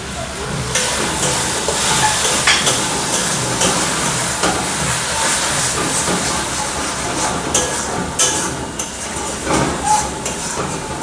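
Tomato paste hits a hot pan while cooking big golda prawns with potato in a mustard-poppy gravy, giving a steady, loud broadband sizzle and hiss that runs throughout with a few brief spitting bursts.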